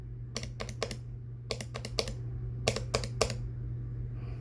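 Keystrokes on a keyboard fitted with stock, unmodified Prime T1 switches: three short bursts of crisp clacks, about three or four presses each, close and fairly quiet over a steady low hum.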